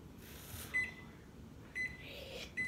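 A microwave oven runs while it heats breakfast food, a faint steady hum broken by three short, thin beeps at irregular intervals.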